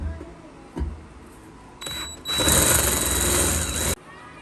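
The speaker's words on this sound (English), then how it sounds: "Okay, drilled it. There's our 3¼ inch hole." A hole saw cuts a 3¼ inch hole through a fuel tank, starting with a few short bursts and then a loud, sustained high grinding and buzzing for about two seconds before it stops abruptly.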